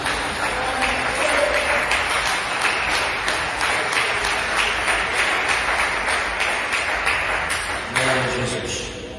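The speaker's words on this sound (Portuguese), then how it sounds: "dê uma salva de palmas bem alegre para Jesus" A church congregation applauds together, a dense, sustained clapping that carries on for several seconds and tapers toward the end, with voices speaking faintly underneath.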